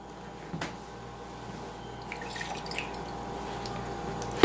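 A cup of water poured into a mixing bowl in a home kitchen, a soft trickling splash that builds gently over a few seconds.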